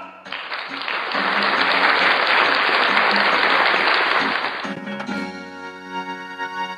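An audience at a Cantonese stand-up comedy show breaks into loud, dense applause that lasts about four seconds and then stops abruptly, followed by a voice and some tonal sound.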